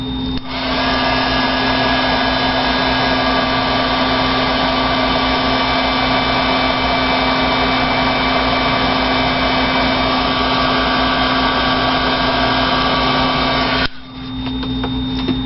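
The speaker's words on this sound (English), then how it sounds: "So let's heat this embossing powder" A heat tool melts distress embossing powder on a skate-themed card with a loud, steady whirring blast. The whir runs nearly unbroken for about fourteen seconds, then cuts off abruptly.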